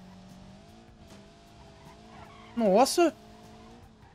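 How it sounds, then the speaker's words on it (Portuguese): A Ford F150 sedan, early version, skids in BeamNG.drive with a short, loud tire squeal of about half a second, rising and falling in pitch, over a steady engine drone, while someone says a brief word. "o carro tá derrapando demais"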